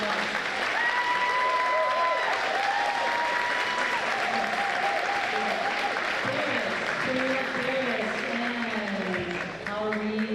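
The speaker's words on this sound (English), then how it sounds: "So a round of applause for the great class." Sustained applause fills a gym at a girls' basketball game between Armbrae Academy and Citadel Phoenix as the graduating class is honoured. Steady clapping runs for about ten seconds, with scattered voices and calls mixed in.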